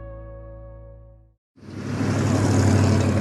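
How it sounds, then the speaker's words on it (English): Rush hour road traffic: cars passing and rumbling on a busy road, a dense broadband roar that swells in after a brief silence and grows steadily louder. "That's the sound of rush hour."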